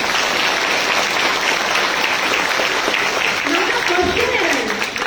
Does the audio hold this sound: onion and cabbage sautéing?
no